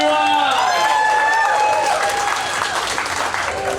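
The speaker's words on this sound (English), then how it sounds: "Let's give a round of applause for Wani." Audience applause with some cheering for a musician aboard the Star Wars Galactic Starcruiser hotel at Walt Disney World, loud and dense throughout, with bright tonal music or effects ringing over the crowd noise.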